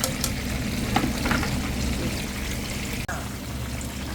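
Shallots and sliced kaffir lime leaves simmer in a pan of mackerel chili sauce, a loud continuous bubbling, frying hiss with a few soft stirring knocks and one brief sharp click near the end.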